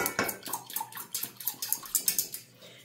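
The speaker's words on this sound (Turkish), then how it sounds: "Pürüzü kalmayasıya çırpalım. Limonumuzu, yoğurdumuzu ve yumurtamızı." A whisk beats lemon juice, yogurt and egg together in a bowl, producing a quick, steady run of light clicking and sloshing strokes, close and moderately loud, with no talking.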